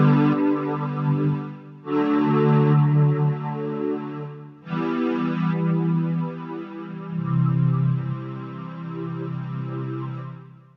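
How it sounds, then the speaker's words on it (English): Low strings patch on the Messiah virtual synthesizer plays sustained, rich bowed-string chords in several long swelling phrases with brief gaps between them, warm and fairly soft with no voices. "We'll select the low strings patch."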